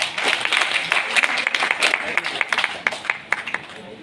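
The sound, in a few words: audience applause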